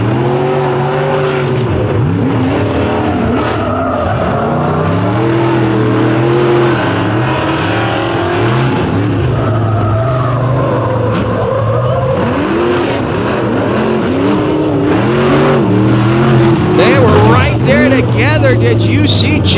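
Monster trucks race at full speed at a nighttime event at Lake Erie, with loud, roaring engines rising and falling in revs and occasional tire squeals, while an announcer talks over them.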